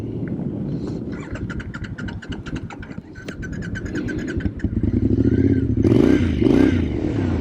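A carbureted 2006 Triumph Scrambler 900 motorcycle engine runs close by with a steady idle, then swells into louder revving toward the end, with some mechanical clatter over the top.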